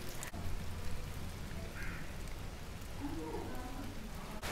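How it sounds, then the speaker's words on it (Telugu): Steady rain falling at a Vipassana meditation centre in Vanasthalipuram, Hyderabad, a soft continuous patter among trees, fairly quiet and even throughout. "ఇక్కడ వర్షం పడుతుంది."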